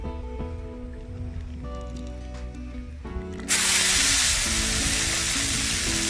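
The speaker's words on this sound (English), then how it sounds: "It's about 3 pounds of chorizo that we're gonna fry up right now. The grill is nice and hot." About three pounds of chorizo hits a hot, oiled outdoor grill and bursts into a loud, steady sizzle that stays constant. Quieter tonal background sound plays before it.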